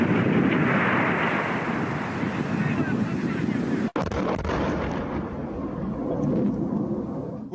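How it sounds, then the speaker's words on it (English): Artillery shells fall and burst near a Syrian position by Deir ez-Zor, a heavy booming barrage under strong wind buffeting, with one sharp blast cutting through midway. "As we filmed, shells began falling all around."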